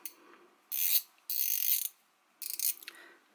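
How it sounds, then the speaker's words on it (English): A Milwaukee 3/8-inch drive pivoting head ratchet being worked, three close bursts of rapid, bright pawl clicking separated by short pauses. "and of course it is a ratchet."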